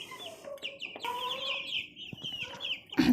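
Hungry chickens cluck and chirp in a busy flock at feeding time in a small home poultry setup, steady overlapping calls throughout with a louder burst at the end.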